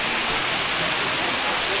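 The Manyava waterfall in the Carpathians pours in a loud, close, continuous roar of falling water, a dense hiss and rumble with no pauses.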